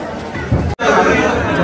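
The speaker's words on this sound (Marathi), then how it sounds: "जाम गर्दी" Dense crowd chatter and babble at the crowded Ekvira temple, many overlapping voices close around on the stairs, steady and loud throughout apart from a brief dropout midway.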